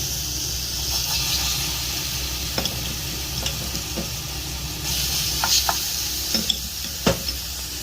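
Ginger garlic paste sizzles in hot oil in a pan, a steady close hiss broken by occasional sharp pops and the scrape of stirring, with no talking.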